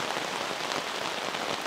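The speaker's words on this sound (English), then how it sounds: "We just gotta wait for the rain to pass." Steady rain falls outdoors during a hike at Sungai Pauh, a dense, even hiss of drops on surfaces with no voices.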